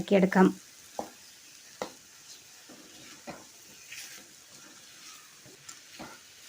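Cooked tapioca being mixed with coconut chutney in a pan: a loud burst of scraping and stirring at the start, then scattered faint scrapes and taps in a quiet kitchen.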